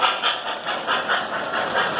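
A train rolls along the tracks at a railroad museum in Strasburg, giving a loud, close, rhythmic clatter that pulses roughly every half second with no talking.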